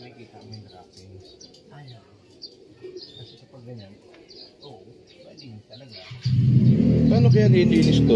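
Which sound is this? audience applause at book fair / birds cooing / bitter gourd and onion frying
birds cooing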